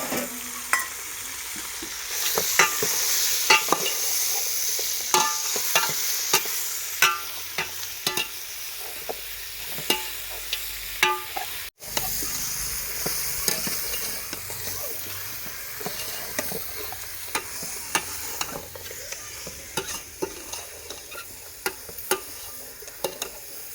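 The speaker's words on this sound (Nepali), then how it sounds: "अहिले चाहिँ मासु राख्दैछौँ। लोकल चिकनको रेसिपी चाहिँ बिस्तारै हुँदै गर्छ। हल्का चलाउँछौँ हामीले।" Local chicken pieces fry in a pan in village style and are stirred lightly, so a constant loud sizzle runs beneath repeated sharp scrapes and clatters of the spoon throughout.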